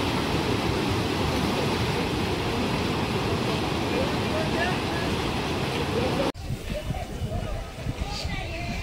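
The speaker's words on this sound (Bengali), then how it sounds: "বাড়ির সিঁড়ি পর্যন্ত জল উঠছে" Flood water surges around a house and up to its steps, roaring as a loud, continuous rush close by, then abruptly quieter and thinner after a sharp cut; voices talk beneath it.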